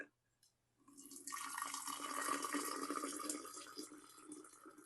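Boiled hot water pours from a kettle into a bottle of honey to liquefy it, a steady close splashing and gurgling stream that starts after about a second and runs continuously to the end without talk.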